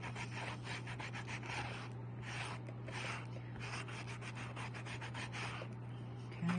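Sandpaper on a block rubbed against a polymer clay cane, a steady back-and-forth scratchy rasp in quick repeated strokes, close and fairly quiet over a low hum, with no talk.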